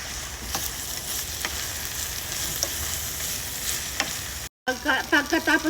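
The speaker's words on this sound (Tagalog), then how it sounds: "Haluin natin guys." Food stirred in a frying pan with sumac, salt and seasoning, a steady broadband sizzle with faint scraping clicks, then a short gap and a few closer, sharper scraping strokes at the end.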